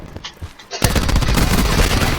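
SAUG 9mm submachine gun in Call of Duty Black Ops 4 opens up in a loud, rapid automatic burst lasting over a second, preceded by quieter game sounds.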